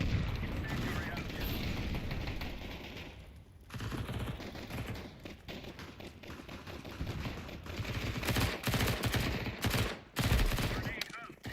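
A shooter video game erupts with dense gunfire and grenade blasts, a loud continuous barrage of rapid shots and booms. It barely lets up, and voices talk faintly underneath.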